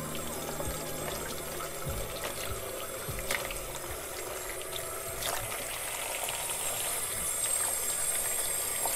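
Tap water runs steadily in a home kitchen while hands are washed beneath it, a continuous close splashing and trickling with occasional knocks.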